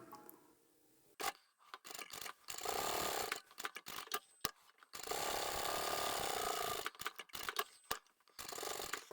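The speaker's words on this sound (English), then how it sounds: "So I'll sew that in place as I go, and I'll triple stitch just there too." A sewing machine stitches a wallet in loud, rapid mechanical runs broken by short pauses, with clicking starts and stops between bursts.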